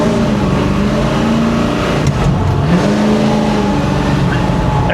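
A 1966 Chevy Impala V8 revs steadily and loudly up close, its engine note rising and falling over a constant rumble, with a rough throttle feel blamed on the stall converter.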